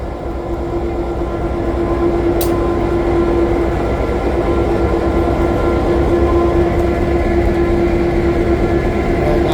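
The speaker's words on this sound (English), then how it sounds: "We're at the train shed where they do all the maintenance on all the trains." Steady, loud rumble of a train inside a railroad maintenance shed at a railway museum, a continuous low drone with a sustained hum and one brief sharp hiss partway through, no talk.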